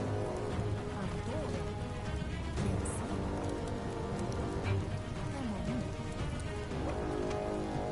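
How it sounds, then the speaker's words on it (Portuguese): Steady rain patters on surfaces in the video game Biomutant in a continuous wash, with faint tonal music-like sounds drifting underneath. "Tá chovendo, pô."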